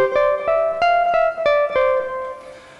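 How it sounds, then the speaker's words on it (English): Surge synthesizer on the Acoustic Square patch plays a short run of about seven plucked, square-toned notes in an even rhythm, each with a sharp attack and bright harmonics, clear and alone. "I'm going to use the patch named Acoustic Square. Sounds like this."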